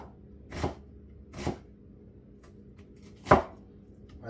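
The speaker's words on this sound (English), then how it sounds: "So I'm just slicing little slices like that." A kitchen knife slices half an onion into thin pieces, giving three separate crisp chops against the board spaced about a second apart, close and fairly quiet.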